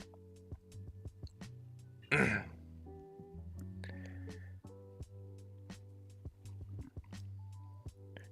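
A man clears his throat once harshly and coughs close to the mic while painting Warhammer miniatures, set against quiet background music with faint taps and clicks.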